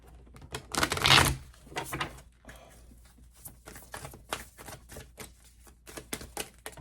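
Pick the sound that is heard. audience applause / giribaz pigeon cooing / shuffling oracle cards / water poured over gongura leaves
shuffling oracle cards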